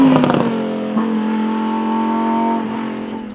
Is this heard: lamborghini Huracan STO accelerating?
yes